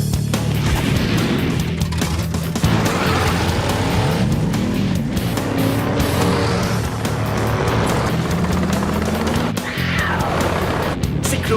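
Cartoon vehicles speed away together, with loud revving engines and repeated tire squeals and skids sweeping up and down in pitch over continuous motor roar, all close and busy from start to finish.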